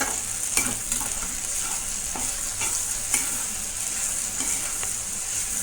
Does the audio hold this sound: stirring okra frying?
yes